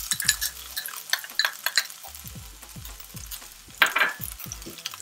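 Cumin, garlic and finely chopped ginger sizzle in hot oil for sarson ka saag, with a soft steady fry broken by repeated clinks and scrapes of a spoon stirring in the pan.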